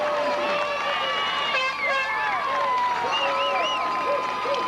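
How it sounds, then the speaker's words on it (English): A home crowd cheers a play at a 1985 high school football region championship for the Crittenden Rockets, a sustained roar of voices with an announcer talking over it. "And the Rocket crowd loves it"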